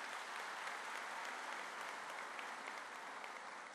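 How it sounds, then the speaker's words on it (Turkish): A large party congress audience gives strong applause, a continuous, fairly distant roar of many hands clapping, steady from start to finish. "kuvvetli bir alkış alalım kendisine"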